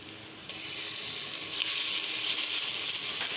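Ginger garlic paste hits light-brown fried onions in a hot pan, giving a steady loud sizzle that swells slightly after the first moments and keeps crackling throughout, with no talking.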